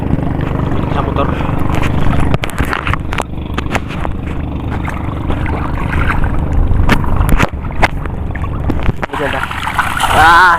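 A motorboat engine runs on the sea, a steady low drone under wind buffeting and occasional splashes, with people chatting over it throughout.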